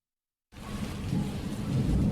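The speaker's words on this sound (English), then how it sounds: "it's raining so hard that it's almost impossible to get a cab" Heavy rain and rolling thunder in a video game city scene rise out of silence into a dense, steady downpour with deep low rumbles building toward the end, and no voices.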